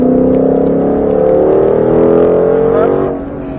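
A sports car, the driver's dream car, accelerates hard at full throttle on a track with worn tyres, its engine note rising steadily and loud close by, then dropping off abruptly near the end.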